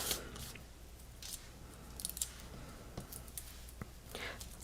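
Scissors snip through craft paper in several crisp, close cuts scattered across a quiet room, with soft paper rustling between the snips.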